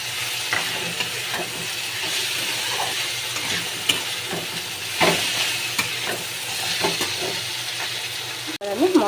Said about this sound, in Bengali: দিয়ে এবার একটু কষে নেব।